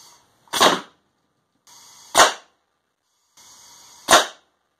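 A propane-powered rubber ball cannon fires three times semi-automatically, each loud sharp pop preceded by a brief hiss of gas, spaced about a second and a half apart, with no talking.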